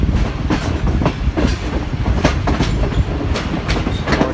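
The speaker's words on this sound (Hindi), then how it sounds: "और ये हमारी ट्रेन आ गई है मलकवाल भेरा ब्रांच लाइन से शोरकोट लालमसा ब्रांच लाइन पर।" Millat Express passenger train running on a Pakistani branch line, with loud steady rumble and rhythmic clickety-clack of wheels over rail joints, heard close and continuous with no talking.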